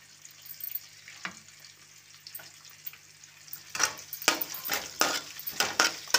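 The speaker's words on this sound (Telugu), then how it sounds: "అందుకని ఆనియన్స్ ముందు కట్ చేసి అవి ఫ్రై చేస్తూ ఉంటాను" Onions frying in a pan give a soft, close sizzle, with stirring and scraping noises growing busier toward the end.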